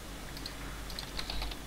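Fast clicking on a computer keyboard during a Minecraft game, a quick uneven patter of keystrokes over a low steady hum, with no voices.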